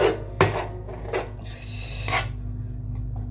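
A blunt kitchen knife sawing through cold raw chicken, giving a few close rasping, scraping strokes with soft knocks against the board and a faint steady hum underneath.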